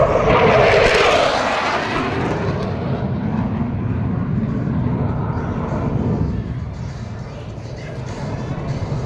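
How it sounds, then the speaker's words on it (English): Thunderbird jet making a knife edge pass at an air show, a loud roaring engine sweep that peaks early and then fades into a steady rumble, heard from the crowd with an announcer talking over it. "Thunderbird 5 displays the historic Thunderbird emblem on the bottom of her aircraft with the Knife Edge Pass"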